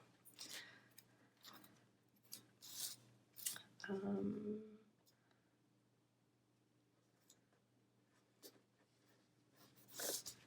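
Scissors snipping a paper sticker from a planner page in short, close, crisp clips spaced a few seconds apart, with a brief rustle of paper handling between cuts in a quiet room.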